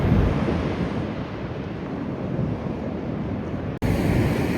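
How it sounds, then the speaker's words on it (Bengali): Ventimiglia river rushing forcefully into the sea along the Riviera, a steady broadband roar of water and surf with wind buffeting the microphone, continuous and close, briefly cutting out near the end. "কি ফোর্সে যাচ্ছে জলটা সমুদ্রে।"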